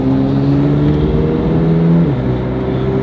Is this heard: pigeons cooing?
no